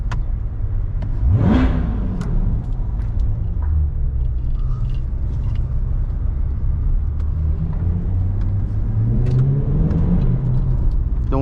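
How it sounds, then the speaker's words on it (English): A Chevrolet C8 Corvette Stingray revs inside a parking garage, one sharp rising blip near the start and a second slower swell later over a deep, steady idle rumble that echoes off concrete. "So you pull both paddles back and you are able to rev."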